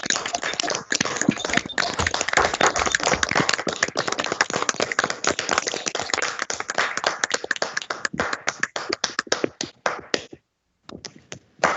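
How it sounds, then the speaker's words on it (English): A seminar audience at a real estate course claps after a presentation, a dense burst of applause that thins into scattered claps and then stops. "Let's give Numisa a big hand of applause for such a splendid presentation."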